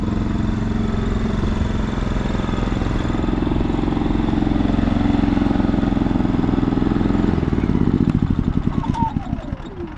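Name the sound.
DK9200 tri-fuel generator running, waiting for fan to shut off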